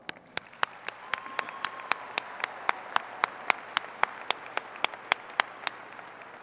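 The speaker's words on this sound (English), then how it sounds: "Please give them an applause." An audience at a university commencement ceremony applauds its graduates, with sharp claps landing in a steady, even rhythm at a moderate distance.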